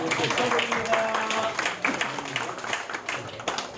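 A church congregation claps during a Sunday worship service, a dense patter of hands with a voice faintly mixed in underneath.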